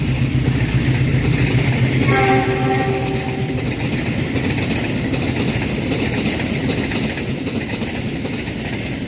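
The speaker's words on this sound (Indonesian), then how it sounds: "Kereta api Taksaka sudah melintas juga." The Taksaka passenger train rumbles steadily past close by, its horn sounding in a sustained blast partway through, followed by continuous rolling wheel and carriage noise.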